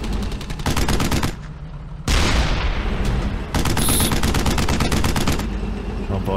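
Rapid machine-gun bursts in the WWII shooter Brothers in Arms: Hell's Highway, loud and close, in long rattling strings broken by short pauses and a heavy blast, with battle noise behind.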